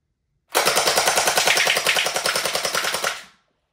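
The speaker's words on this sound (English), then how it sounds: "Let's see if that gel blaster can take down these cups." A gel blaster MK-416 fires a sustained full-auto burst of gel balls at targets in a hallway, a rapid, loud, evenly spaced rattle of shots lasting nearly three seconds with no talking.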